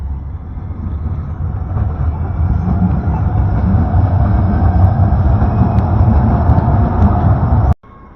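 A Calgary LRT light rail train passes along a city street, a steady broad rumble building and holding loud for several seconds before cutting off abruptly.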